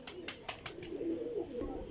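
Pigeons cooing in low soft phrases, with a quick burst of sharp wing claps at the start, fairly faint and close, no talking.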